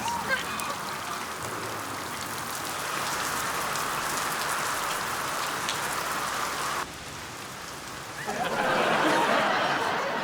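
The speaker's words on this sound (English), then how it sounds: "it's raining too hard to see" Heavy rain pours down steadily in a dense, hissing wash on a wet afternoon, loud and unbroken, dipping briefly before swelling harder again.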